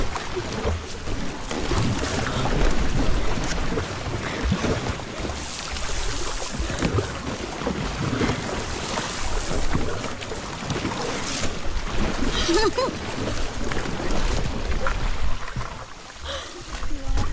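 A round coracle boat rides on the river at Hampi, with water sloshing and lapping around the hull and gusts of wind buffeting the microphone, while people talk on and off throughout.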